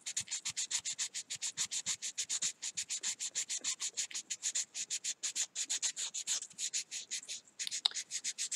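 Sandpaper rubs rhythmically against a hand-carved wooden fishing lure, quick back-and-forth strokes repeating steadily and close with only short pauses, no voice over them.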